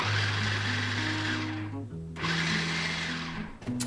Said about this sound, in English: how much you wanna chop your garlic in the food processor